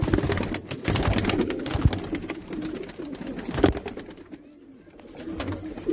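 Pigeons coo in a low steady murmur as they are let out of their loft, mixed with fluttering wings and scattered clicks and knocks, fairly close and continuous.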